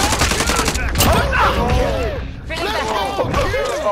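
Gunfire in a video game, a quick rattle of shots at the start followed by scattered impacts and pops, loud and close, mixed in with talking.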